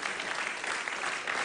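An audience at a circus-style animal act claps in a steady, fairly loud burst of many hands, brief and unbroken, with no speech over it.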